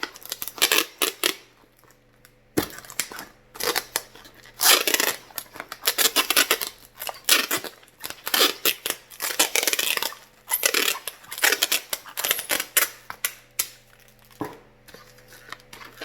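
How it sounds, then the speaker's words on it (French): Packing tape is pulled off the roll and wrapped around a plastic bottle in bursts. Close, crackly screeches and tearing rips come in short spurts across the whole stretch, separated by brief pauses, with no talk. "On prend du tape à boîte. Tadam! Et on va taper notre bouteille."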